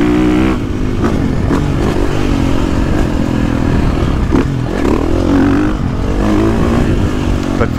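A KTM 450SXF Factory Edition motocross motorcycle running loud and close, its engine holding a steady, dense roar throughout with slight surges and some clatter.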